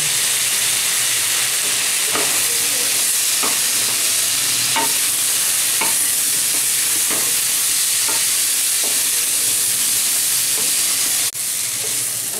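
Chilli paste, ginger and a little turmeric fry steadily in a pan with a constant loud sizzle, broken by repeated scraping strokes of a spoon stirring, alone without talk.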